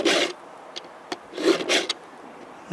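A file rasping across the teeth of a Poulan Wild Thing chainsaw chain, a few separate coarse scraping strokes with short pauses between them, close and clear, no talk.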